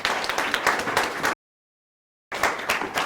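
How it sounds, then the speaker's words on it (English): A seminar audience claps for the presenters, steady moderate applause from a room full of people, cut by a short stretch of silence before it resumes. "we can give one big applause to all our presenters once more"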